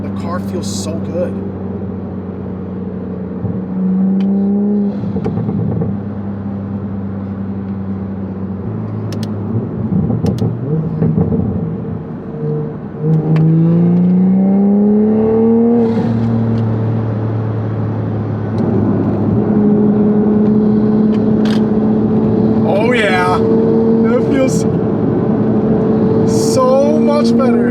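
A Toyota MK5 Supra accelerating on the road, its engine note droning and rising through gear changes, loud and close from inside the car.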